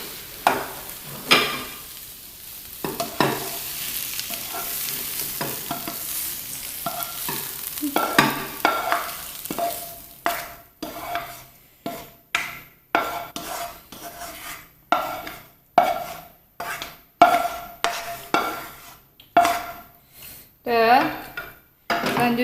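Stir-fried chayote is scraped from a pan onto a serving plate: a series of sharp metallic spatula scrapes and clinks, sparse at first, then a quick rhythmic run of close, loud strikes with faint sizzling beneath.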